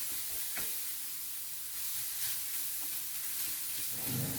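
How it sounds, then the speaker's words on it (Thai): Minced pork with lemongrass chili paste is stir-fried in a pan, giving a steady close sizzle with occasional scrapes and knocks of the spatula against the pan. No one talks. "ผัดต่อไปให้ทุกอย่างสุกให้เรียบร้อยก่อนครับ"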